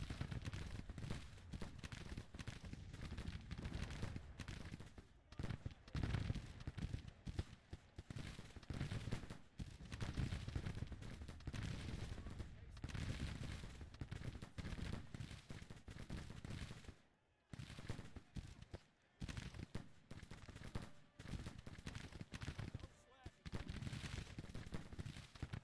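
Massed rifle fire in the Civil War strategy game Grand Tactician, a dense continuous crackle of volleys rolling on and off with brief lulls and someone talking over the battle.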